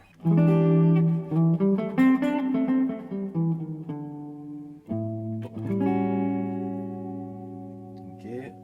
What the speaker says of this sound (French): Avec la petite reverb à midi.